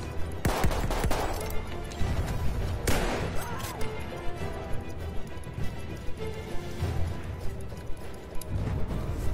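Rapid bursts of gunfire in the World War I shooter game Battlefield 1, loud and continuous with repeated shots, crashes and impacts over a dense battle din, with a little talk mixed in.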